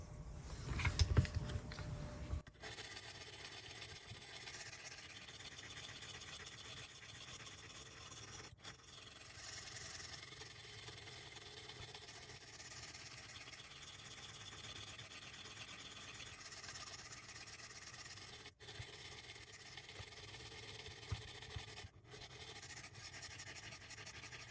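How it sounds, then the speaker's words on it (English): A knife blade pressed against a running grinder gives a steady, dense rasping hiss. It starts after a brief scuffle of handling noise and carries on almost without a break, with a few short gaps where the blade lifts away. "we definitely have a bit more grinding to do here"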